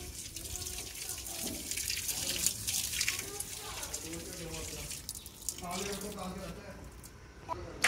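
Steady running water splashes and hisses throughout from a tap that has come loose while watering plants, with voices talking over it.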